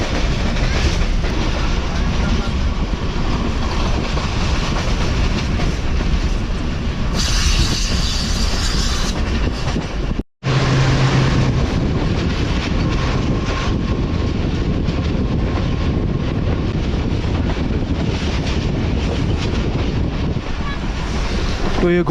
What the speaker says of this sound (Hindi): तो ये घुंघरिया रेलवे स्टेशन को स्किप कर रही है ट्रेन।